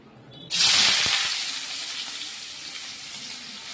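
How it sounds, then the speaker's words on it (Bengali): Chopped onion dropped into hot oil with whole cumin seeds, bursting into a loud sizzling hiss that then settles into a steady, slightly fading fry. "তেলের মধ্যে ফোড়ন দিয়ে দিয়েছি গোটা জিরে। এবার এর মধ্যে দিয়ে দেবো কুচনো পেঁয়াজ।"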